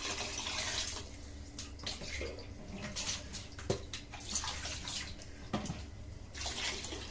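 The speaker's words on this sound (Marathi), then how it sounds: "तर मी इथं 1 तांब्या पाणी टाकते" Water is poured from a pot into a cooking pan of steamed vegetables for masala bhaat, a steady splashing, gushing flow that keeps going at close range with no talk.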